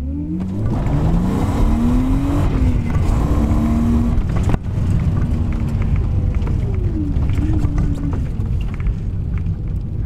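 A BMW E36 car engine accelerates in first gear and then fifth on a drift project outing, loud and steady throughout, with rising and falling engine tones and no talk.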